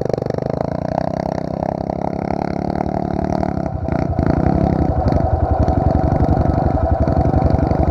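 A Pro Tork TR100F mini motorcycle, ridden by a nine-year-old, climbs a steepening dirt trail with its small engine droning steadily near the microphone, then revs louder and harder as the throttle opens partway through.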